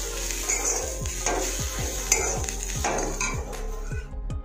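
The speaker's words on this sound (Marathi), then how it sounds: "चांगलं मिक्स करून आपण भाजून घेऊया, हे चांगलं लाल होईल तोपर्यंत" Green chilies with salt are stirred and roasted in a pan for thecha, with a soft sizzle under a steady rhythm of metal spatula scrapes and clinks against the pan, about two strokes per second, close by.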